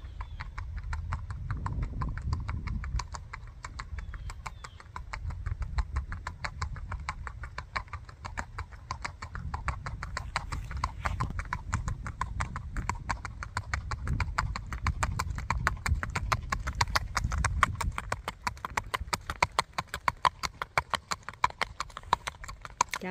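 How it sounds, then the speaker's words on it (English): A five-year-old registered Tennessee Walking Horse gaits along, its hooves beating a quick, even clip-clop rhythm that holds steady and fairly close for the whole stretch, with brief talk early on. "All right, we're going to get him gating, coming back up."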